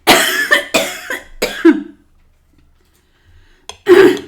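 Several harsh coughs come in a quick burst close to the listener, then a pause, then one more loud cough.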